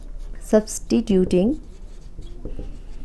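Writing on a board during a mathematics lecture, heard as soft scratchy strokes close by, with a voice briefly sounding over it.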